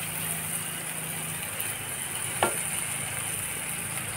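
Potatoes frying in a pan for an egg poach curry give a continuous hissing sizzle with one brief scrape of stirring midway, steady and moderately quiet, with no voices.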